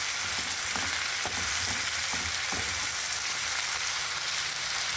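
Tomatoes frying in hot oil in a pan, a steady broadband sizzle with a few soft stirring knocks, close and continuous with no talking.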